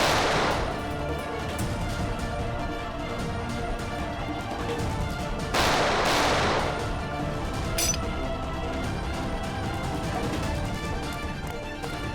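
Two sharp gunshots ring out several seconds apart over a dense, noisy background, each bang trailing off briefly, in the TV series CID.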